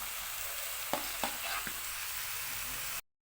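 Boiled, mashed potato stirred into a frying masala in a pan for masala dosa filling, a steady sizzle with a few sharp spoon scrapes and taps against the pan, close and alone.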